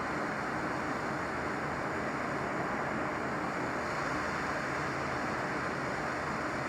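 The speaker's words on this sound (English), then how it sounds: "I'm just going to bring the heat gun in and just melt that plastic deliberately to show you how quickly it can melt" Steady, continuous rushing roar of a heat gun blowing hot air onto a plastic PCB connector to melt it, loud and unbroken throughout with no voices.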